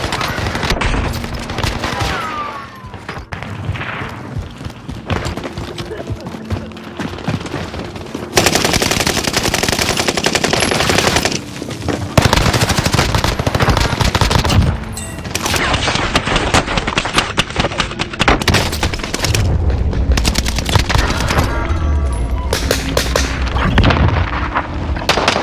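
Sustained machine gun fire in a shooter video game, long loud automatic bursts lasting most of the stretch with heavy booming blasts mixed in, close and dense, with no voices.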